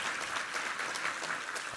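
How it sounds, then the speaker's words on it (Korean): A church congregation claps steadily in praise during a Sunday service, a dense, continuous wash of applause filling the room at even loudness throughout. "우리 하나님께 감사와 영광의 박수 올려드리겠습니다"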